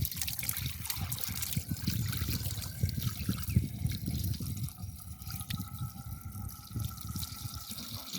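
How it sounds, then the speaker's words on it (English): Water poured into a water pump to prime it, a steady trickling and gurgling pour of bucketed water that continues throughout, close and moderately loud with no talking. "When it is fully primed, no more water can be poured into this"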